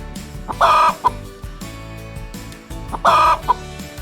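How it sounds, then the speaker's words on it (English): A farm chicken lets out two loud, abrupt squawking clucks with small follow-up clucks, close by, over a soft music backdrop. "Meet the chicken."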